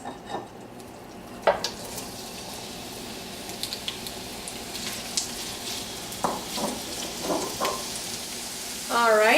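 Onions fry in olive oil in a pan over medium-high heat with a steady moderate sizzle, scattered utensil clinks and scrapes, and a burst of louder crackling at the end.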